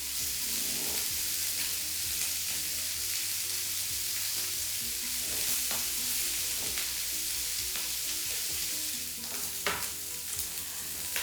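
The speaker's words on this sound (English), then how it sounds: "Turning them all over so they can brown all the way around." Italian beef meatballs sizzle steadily in a pan while being stirred and turned, with clattering utensil scrapes and bumps over continuous close frying noise and no talking.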